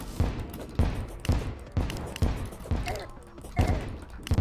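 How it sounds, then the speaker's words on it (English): Grenades exploding in a video game: a steady run of heavy, booming blasts about every half second, loud and close, with game noise filling the gaps. "Oh, the grenades damage us, too."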